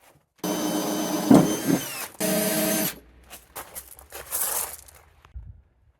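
A power drill bores holes for hinges on an off-road trailer in a few separate bursts, the motor loud and near, each burst ending abruptly before short pauses and faint handling noises.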